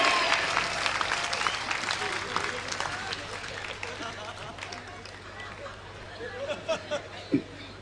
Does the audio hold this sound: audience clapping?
yes